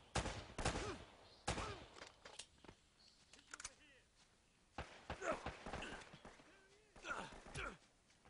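Gunfire in the video game Uncharted, bursts of sharp shots and volleys coming in irregular clusters, loud and close, mixed with game sounds and someone speaking.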